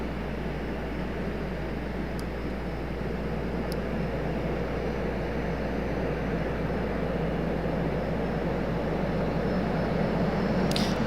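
Embraer jet airliner arriving at Raleigh Durham International Airport at night, a steady, broad engine roar heard from a distance, continuous and fairly faint, with no talking.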